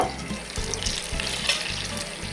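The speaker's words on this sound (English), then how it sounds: "time to get a pan out, put a knob of butter in there, and then a good glug tablespoon of olive oil" Butter and olive oil heating together in a pan for pan-fried cod, a soft steady sizzle and gentle bubbling, fairly quiet and close, with no talk.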